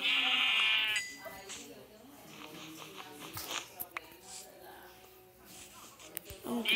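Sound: sheep bleating in the video game Minecraft

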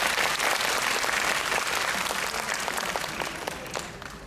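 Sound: audience applause at birthday charity event

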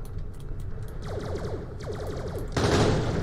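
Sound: shotgun firing in the video game Borderlands: The Pre-Sequel

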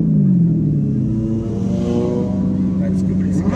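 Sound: Corvette car engine revving

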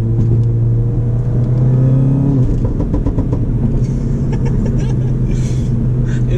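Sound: VW Golf R Stage 2 exhaust burbles and pops while revving

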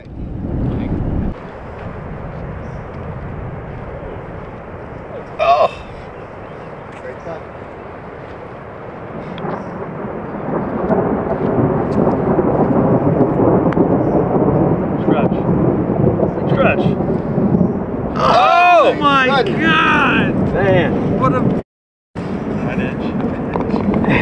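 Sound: almost continuous thunder during a lightning storm

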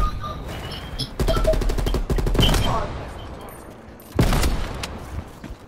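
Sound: artillery strike in video game Call of Duty Cold War

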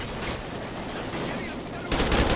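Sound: gunfire in Call of Duty Ghosts video game

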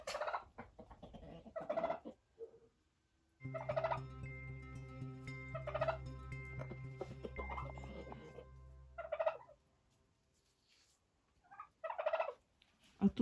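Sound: turkeys gobbling, turkey cocks on a village farm

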